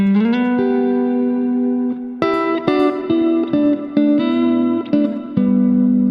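Overdriven electric guitar playing a short phrase of sustained bends and sliding notes, then a few punchy chords, warm and smooth with slight distortion.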